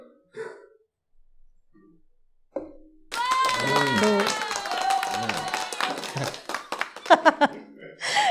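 Applause and cheering from an audience at a business talk as a speaker is called up to a seat, sustained clapping with scattered whoops and voices rising over it, fairly loud and close.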